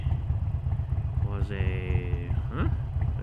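A Harley-Davidson motorcycle rumbles steadily under a rider talking over wind noise, with a low, constant engine drone throughout the ride.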